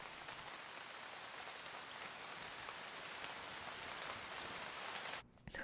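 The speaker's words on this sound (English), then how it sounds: "imagine that you're chilling in a rainy forest" Steady rain falling in a forest, a dense, continuous patter of drops on leaves and ground heard up close without any voices, cutting off abruptly at the very end.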